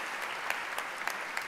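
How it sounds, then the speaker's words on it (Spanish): An audience at the 30th FICValdivia festival opening ceremony in 2023 claps in steady, moderately distant applause, with a few sharper claps standing out from the crowd. "Un gran aplauso también para él"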